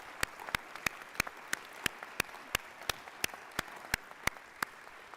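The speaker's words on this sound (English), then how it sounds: "So let's give our veterans a round of applause." Sparse, evenly spaced claps at a University of Illinois Chicago homecoming welcome in honor of veterans, a dozen or so sharp distinct hits in steady rhythm, faint and somewhat distant.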